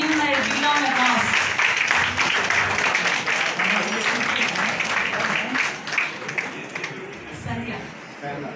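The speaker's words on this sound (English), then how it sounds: "Please give him a big round of applause." Audience applause for a university college principal, a broad clapping wash that fades over several seconds while a voice speaks over it and low hum sits beneath.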